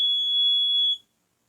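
A steady electronic buzzer from a smoke detector system, one loud pure tone holding for about a second before cutting off abruptly into silence.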